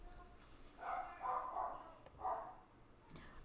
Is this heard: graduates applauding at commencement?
no